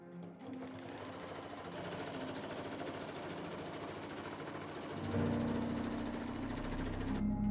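Sewing machine runs steadily while stitching together a pair of pants for a scarecrow costume, a continuous mechanical whir that grows slightly louder and heavier partway through, with no talking over it.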